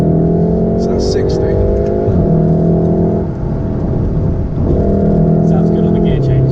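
Ford Focus RS or VW Golf R car engine pulling hard and loud through gear changes, the tone dropping briefly at each shift before rising again, with a brief lift at about 3.3 to 4.5 seconds and no speech over it.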